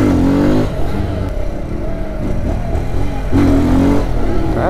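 A Kawasaki Z125 motorcycle engine revs hard during a wheelie attempt, loud and close, with rising and falling throttle surges that ease off midway and then climb again.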